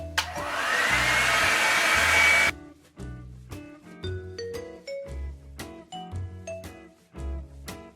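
A Revlon One Step blow dryer on its low setting gives a steady airy whoosh for about two and a half seconds, then cuts off, followed by a series of light chiming tones.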